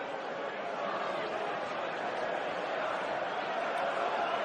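Distant crowd noise fills a Newcastle United versus West Ham Premier League stadium as an even, continuous hiss-like roar, faint and unbroken throughout.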